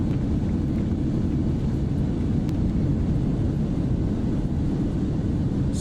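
Engines of a Boeing 787-8 roar in reverse thrust after landing in Microsoft Flight Simulator, a loud, steady low-heavy rumble with wind-like rush throughout, no voices.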